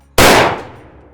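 One sharp, loud crack from a .308 rifle with a 26-inch barrel, fired close by outdoors, trailing off in a short echoing decay.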